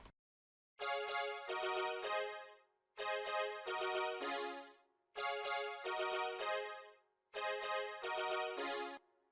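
Four bursts of bright synth brass stabs for a Seben beat made in FL Studio, each a pair of punchy chords separated by short silences, repeating in a steady rhythm.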